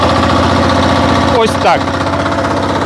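A tractor engine idles at lowered revs with a steady mid-pitched rumble and vibration, while someone speaks briefly over it near the middle.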